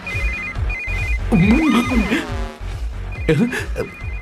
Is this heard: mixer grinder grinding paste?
no